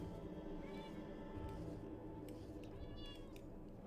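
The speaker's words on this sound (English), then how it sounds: "you probably hear my kitty. She is very upset" An upset house cat meows twice, thin and drawn out, faint beneath a steady low background hum.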